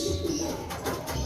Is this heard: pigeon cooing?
yes